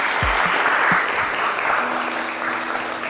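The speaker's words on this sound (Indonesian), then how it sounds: "Beri tepuk tangan untuk semua kelompok." A physics classroom of students applauds all the project groups, a steady wash of many hands clapping together for a few seconds, with a few low thumps near the start.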